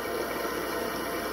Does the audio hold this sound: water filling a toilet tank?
yes